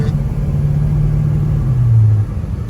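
A 1972 Pontiac Grand Prix Model J cruising on the road, its engine giving a steady, loud low rumble with a slight rise in pitch toward the end before easing off; no voices.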